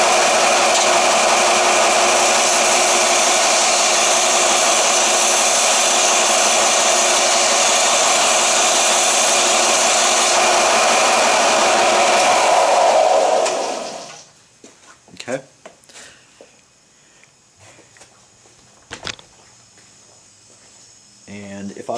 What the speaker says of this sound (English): So that's how I do it on the belt sander.